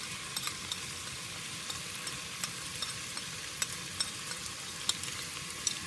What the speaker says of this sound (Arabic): ونقلب حتى يدخل المزيج كله مع بعض.